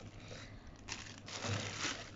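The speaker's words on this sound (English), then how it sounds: "I think it's an LDP plastic bag." Crinkling and crushing of an LDPE plastic packaging bag from a nano spray machine's packaging, a faint, continuous rustle with brief louder crackles, no voices.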